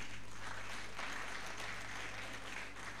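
An audience claps together at a gathering, giving a dense, continuous patter of applause. It stays faint and distant for the full three seconds, with a low hum underneath.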